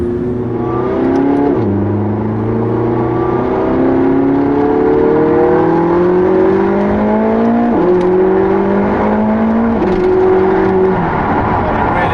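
A McLaren 675LT sports car engine drones and revs on the road, loud and close, rising in pitch through each gear before dropping sharply at the shifts, then climbing again.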